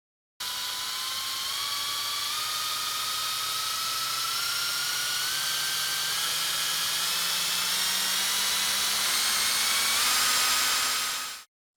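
A drill whines continuously at close range, its pitch slowly rising as it bores through the ECU cover of a Renault 1.5 dCi K9K engine, ending abruptly with no voices.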